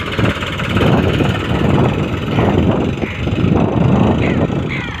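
A Farmtrac Champion tractor engine runs on a farm, a loud, close, rough diesel rumble that swells and dips slightly over the few seconds, with some background voices.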